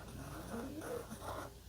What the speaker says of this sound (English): my dog is snoring